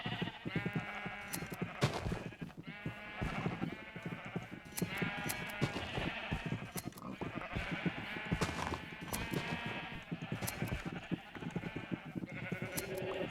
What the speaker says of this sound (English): We probably don't have to take any sheep back. I don't want to listen to this noise anyway.